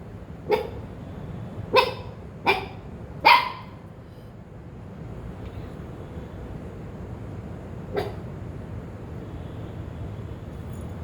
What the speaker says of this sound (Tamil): நம்ம கேம்பஸ்குள்ளே ஒரே நாய் பட்டாளம் தான்.